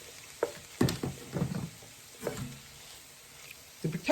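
Chicken pot pie filling simmers quietly in a pan with a soft, low sizzle. A few scraping bursts from stirring break through it at irregular moments.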